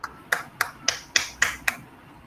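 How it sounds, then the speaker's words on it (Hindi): Seven sharp, evenly spaced hand claps at a Hindi school quiz final for grades 3 and 4, crisp and fairly close in a steady rhythm, with no talking over them. "तालियां बजती रहनी चाहिए।"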